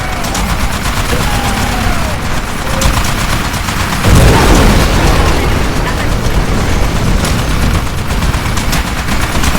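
Sustained Titanfall combat with a turret firing, dense gunfire and booming blasts rolling continuously, swelling louder around the middle and staying loud to the end.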